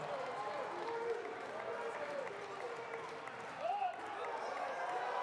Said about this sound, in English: Wow, listen to the crowd coming on here.